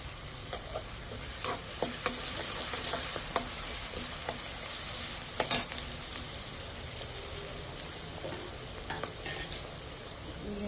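Onions with salt fry in a pan, a faint, steady sizzle with scattered light crackles and one louder clatter midway, no one speaking.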